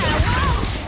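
A disarming spell cast in Hogwarts Legacy, heard as a short, loud magical whoosh and impact burst, dense and continuous over a low rumble through the whole brief moment.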